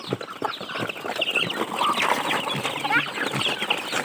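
A flock of chickens, chicks and ducklings clucks and peeps continuously nearby, many short overlapping calls forming a lively village farmyard chatter.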